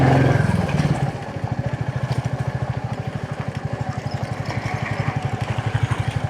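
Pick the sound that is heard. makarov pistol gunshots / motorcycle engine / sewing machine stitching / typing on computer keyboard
motorcycle engine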